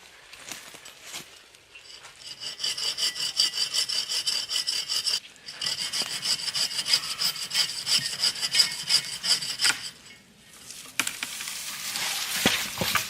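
A hand saw cuts through a dry dead tree outdoors in the woods, with fast, rhythmic rasping strokes in several long bursts separated by short pauses, close and loud.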